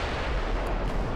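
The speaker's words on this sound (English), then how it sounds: "these 17-inch guns just love deep armor piercing" 17-inch battleship guns fire in the naval game Ultimate Admiral Dreadnoughts, making a dense, loud, sustained roar of heavy gunfire and rumbling blasts that fills the whole moment.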